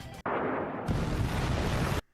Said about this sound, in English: That's a pretty impressive explosion effect.